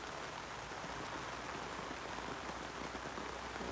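Steady rain falls over a vegetable garden with squash and cucumber plants, a dense, even hiss of drops pattering on leaves and soil, close and continuous throughout with no voices.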